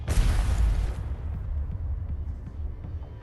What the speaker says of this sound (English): The explosion is as loud as a thunderclap.